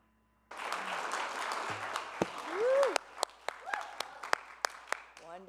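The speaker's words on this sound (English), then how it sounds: "Let's give another hand of applause for our wonderful Reverend Overland." Congregation applauding the reverend at a Sunday church service, steady crowd clapping with a few louder individual claps standing out, some voices mixed in.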